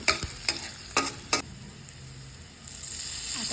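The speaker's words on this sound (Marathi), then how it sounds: "आता लसूण असं मस्त खरपूस होईपर्यंत भाजून घ्यायचा" Garlic fries in hot oil with turmeric, a bright close sizzle punctuated by four sharp spoon scrapes against the pan early on, then a softer steady hiss that swells again near the end.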